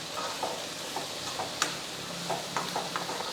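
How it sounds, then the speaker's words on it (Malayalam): Long beans with turmeric and fennel powder are stirred in a pan over a soft, steady sizzle, with light scrapes and a few sharp clicks of the spoon against the pan close by. "എല്ലാം കൂടെ ഒന്ന് ഇളക്കി വെച്ച് കൊടുക്കാം."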